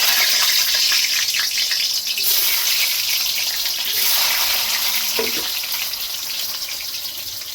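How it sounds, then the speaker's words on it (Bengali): Potatoes fry in hot oil with a loud, dense, continuous sizzle close by. The sound eases slightly toward the end, and no one speaks. "আলুগুলো ভেজে নেব।"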